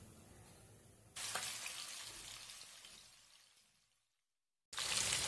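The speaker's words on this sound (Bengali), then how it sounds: "কড়াতে তেল গরম হয়ে গেছে, এরপর আমি মাছগুলো লাল করে ভেজে নেব।" Rui fish fries in hot oil in a kadai, giving a loud sudden burst of hissing sizzle that slowly fades away. After a brief silence, the sizzle abruptly starts again.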